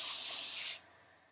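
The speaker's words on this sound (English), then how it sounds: "give it a little spray" Aerosol spray hisses steadily onto a comic book page in one close, loud burst lasting under a second, then cuts off abruptly into quiet room tone.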